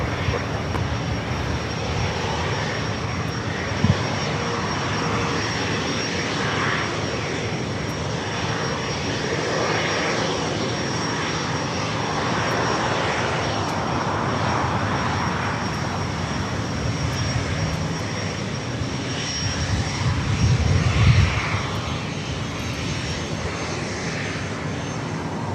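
A Cessna Citation Longitude business jet at LAX, its engines making a continuous rushing roar that swells around the middle and peaks briefly near the end, with occasional small knocks.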